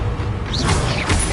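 Expelliarmus spell cast in the Hogwarts Legacy game: a short magical whoosh with a rising swish and rumbling low boom, loud and close, with no talking over it.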